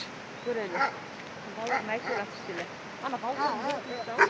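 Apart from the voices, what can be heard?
dog barking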